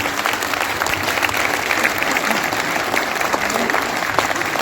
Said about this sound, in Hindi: आपका तालियों से समर्थन एक बार चाहिए